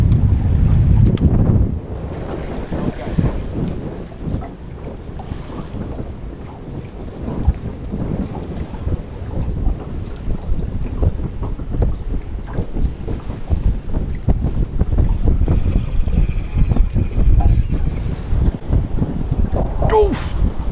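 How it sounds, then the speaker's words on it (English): Gusty wind buffets the microphone on a small fishing boat out tautog fishing in fall, a loud, continuous low roar with water slapping the hull and people talking intermittently. "I was gonna say the wind's picking up"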